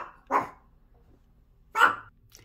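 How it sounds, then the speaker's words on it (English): An excited dog barks twice, about a second and a half apart, each bark loud and close against an otherwise quiet room. "My dog is excited for you. Can you hear him?"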